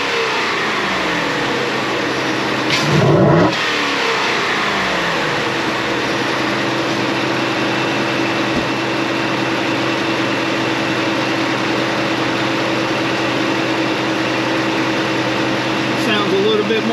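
A Ford F-150 with the 5.0 Coyote V8 and an S&B dry-filter intake runs steadily close by, with one sharp blip of revs early on and then a sustained even drone.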